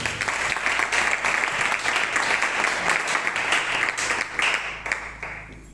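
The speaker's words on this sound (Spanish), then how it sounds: "Dar un aplauso al Señor." A church congregation claps together in a steady, dense round of applause during a sermon on end-times prophecy, sustained at an even level throughout without speech.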